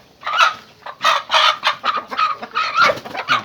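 Chickens cluck loudly and close by in a rapid series of short, squawking calls, several birds overlapping.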